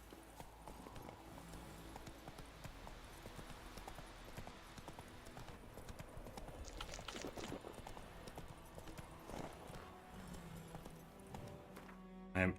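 Hooves of Roach, a horse in The Witcher 3, clip-clop steadily at a walking pace over continuous game music and ambience, with no speech.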